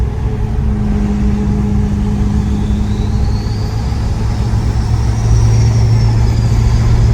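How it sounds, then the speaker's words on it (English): Compound turbos on a 2018 Ford F350 pickup, heard from inside the cab while driving: a loud, steady low engine rumble with a faint high whistle rising and falling above it. "You can almost hear both turbos with this setup"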